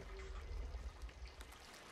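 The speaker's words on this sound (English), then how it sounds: "I hear a leak." Water trickles and splashes into the hull of a wooden pirate ship in the video game Sea of Thieves, a steady low gurgling stream that runs throughout without speech.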